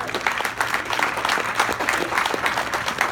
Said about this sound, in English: And Jamie, I'd like to give you a round of applause for spearheading this initiative